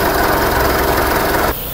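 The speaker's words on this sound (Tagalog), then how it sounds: "Ito mga boss oh, maingay makina niya." A small engine that has slipped out of timing runs loudly and noisily up close, a steady rough roar that drops abruptly near the end.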